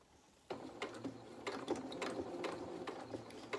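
A sewing machine stitches a jeans seam up close, starting abruptly into a quiet whirring drone with rhythmic mechanical clicks and ticks, and no voices.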